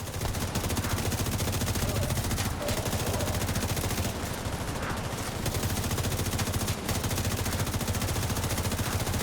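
Dense, continuous automatic gunfire in a first-person shooter video game, rapid loud bursts running almost without pause at close range, with no talk over it.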